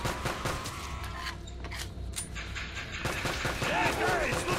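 CZ handgun gunfire in the video game Call of Duty Black Ops, a rapid series of sharp shots and clattering effects in a handgun-only match, with players talking over it.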